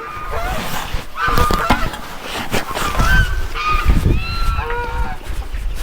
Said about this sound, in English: Geese are going crazy.